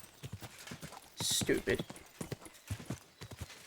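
Horse hooves clip-clop at a walk through a village in the video game Kingdom Come Deliverance 2, a steady beat of hoof strikes mixed with game sounds while someone speaks briefly.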